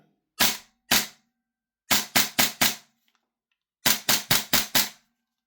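A Novritsch SSQ4 HPA airsoft rifle dry firing on semi-auto: sharp, loud, close pneumatic cracks, two single shots followed by two quick bursts of four, with no voices.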